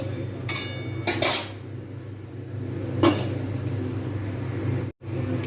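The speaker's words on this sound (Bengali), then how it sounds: "আমি একটু ঢাকনা দিয়ে দেবো" A lid set onto a cooking pan while capsicum and potatoes cook, giving a couple of brief metallic clinks and knocks over a steady low background hum, fairly close, with no talking.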